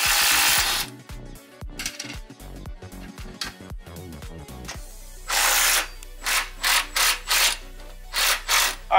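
A ratchet works on the bolts of a Jeep front bumper up close, with quick clicking strokes and tool rattles early on, then a series of loud, rhythmic bursts of cranking toward the end.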